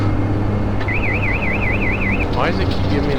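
A warbling electronic cockpit warning tone sounds in a Dash 8 Q400 flight simulator game, rising and falling rapidly for over a second, then a short chirp, over steady engine and cabin hum.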